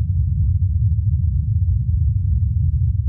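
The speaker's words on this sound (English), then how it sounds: "helicopter in flight on Mars" A helicopter in flight on Mars, recorded by NASA's Perseverance rover: a steady low rumbling drone with a dense, fluttering texture, constant in loudness throughout, muffled and heavy with no higher tones.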